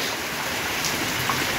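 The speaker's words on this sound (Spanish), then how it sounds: "Y la lluvia pues no se quita." Heavy rain that has been falling since three in the morning, a steady, dense hiss of drops drumming on surfaces, close and unbroken throughout.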